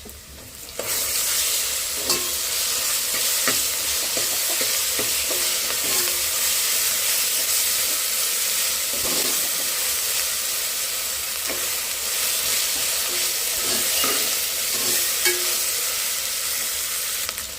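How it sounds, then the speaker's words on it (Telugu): Ginger garlic paste sizzles steadily in hot oil with fried onions for a boti curry, with a spoon scraping and stirring through the pan in intermittent strokes; the sound is close, loud and continuous, with no talking. "అల్లం వెల్లుల్లి పేస్ట్ అయితే ఇలా వేగింది."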